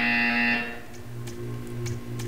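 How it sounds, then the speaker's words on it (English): A buzzer sounds in the video game Portal 2, a loud sustained electronic tone for about half a second, then fades into a low hum with faint ticking clicks. "You will hear a buzzer."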